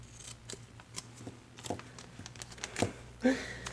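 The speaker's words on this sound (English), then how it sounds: "I have a washi tape here that says remember, and I will cut this part out" Scissors snip through washi tape for a junk journal, with quiet crisp cuts and light rustling and crinkling of tape and paper close by.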